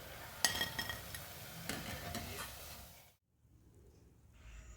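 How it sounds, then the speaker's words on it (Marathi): Semolina rolls fry in hot oil with a steady close sizzle, broken by a few metal clinks and stirring scrapes, then the frying drops out abruptly and only a faint hiss remains. "अशाच पद्धतीने सर्व रोल तळून घ्यायचे"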